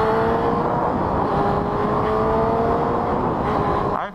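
A steady, muffled motorcycle engine drone through a Two Brothers exhaust fitted with a sound suppressor, with a low sputtering rumble and faint whine, held at a constant level, close by, with no talk.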